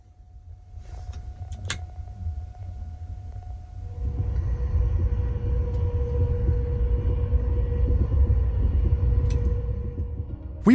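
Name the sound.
Caledonian Sleeper train rolling along the rails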